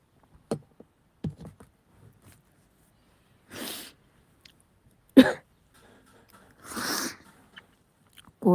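A woman with a cold and fever coughs several times in short separate bursts, close and fairly loud, with quiet gaps and faint background sounds between them.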